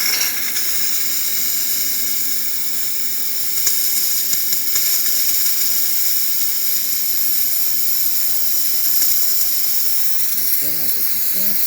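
Loud, steady hiss from the steam wand of a DeLonghi espresso machine, running continuously throughout, with faint clicks and a brief gurgle near the end.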